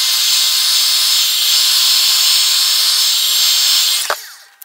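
Heat gun blasting hot air over a silicone cable, a loud steady close hiss and whir that cuts off abruptly near the end with a brief clack.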